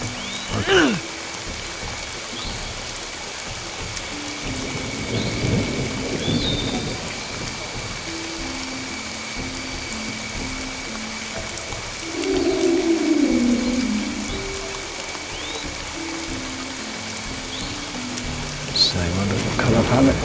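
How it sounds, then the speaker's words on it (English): Rain falls steadily in the rainy basin area of the Xbox game Dinotopia: The Sunstone Odyssey, a constant wash of drops with faint distant rumbles, while someone talks intermittently over it. "The rainy basin, ladies and gentlemen."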